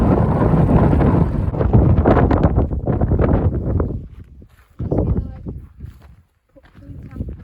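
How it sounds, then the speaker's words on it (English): Strong wind buffets the microphone in heavy gusts at Mount Famine, South Head, roaring loudly at first, then easing into quieter intermittent blasts. "It's lovely warm day when it's windy."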